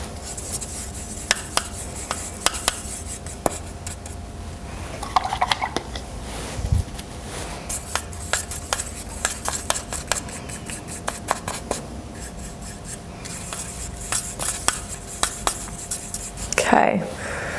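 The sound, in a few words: stirring paint colours together on a palette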